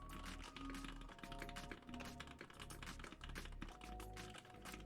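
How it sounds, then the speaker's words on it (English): Rapid, steady keystrokes on a custom Bauer-build mechanical keyboard, close and crisp with a continuous clacky rhythm and occasional deeper thocks from larger stabilized keys, heard alone with no talking. "This keyboard sounds great."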